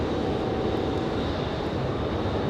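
Heavy international airliner under tow at Raleigh Durham airport, a steady broad engine and tug roar, loud and continuous with no pauses, no voices.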